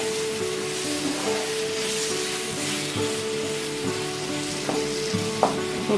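Beef with tomato and salt fries in a pan, a continuous close sizzle broken by occasional scrapes and clacks of stirring and mixing, no talking.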